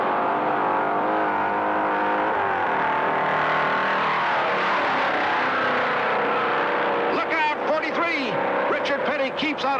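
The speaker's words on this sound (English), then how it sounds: "22 are still on the track, including Andretti in number 11" Race cars roar around the track during the 1967 Daytona qualifying race, a dense sustained engine drone with a car sweeping past near the end, heard under a commentator's voice.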